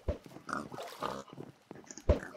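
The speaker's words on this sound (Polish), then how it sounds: "Tu jest jakiś świniak darmowy." Short oinks and grunts come from a pig in a Minecraft minigame on the Hypixel server, a few close, clear bursts spaced unevenly across the moment with game ambience between them.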